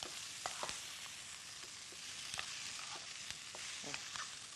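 Garlic and onion fry in a pan for a chicken fajita pasta, a steady close sizzle broken by scraping clicks as a utensil stirs them, with no talking.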